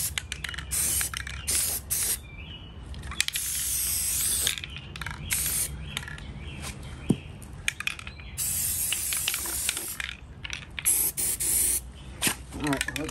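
A spray can paints a vintage Milwaukee impact gun in repeated hissing bursts of varying length, close and fairly loud, separated by short pauses and small clicks of handling.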